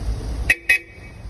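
Two short car horn toots in quick succession, loud and close, over a low engine rumble.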